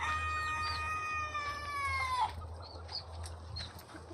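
Chickens and chicks on a farm raising date palms make high, thin peeping calls, one long cheep near and clear, then scattered softer chirps over a low steady hum, with no voices.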